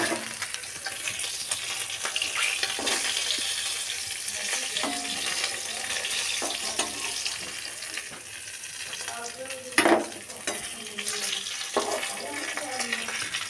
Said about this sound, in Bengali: বাকি যে মাছগুলো আছে সেই একইভাবে ভেজে নেব।